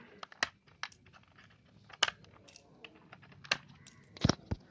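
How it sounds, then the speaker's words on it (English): Keys being pried off a very dirty PC keyboard by hand, giving sharp plastic clicks and snaps at irregular intervals with a cluster of louder pops near the end, over faint rustling and no talk. "So we are removing all the keys using our fingers like this."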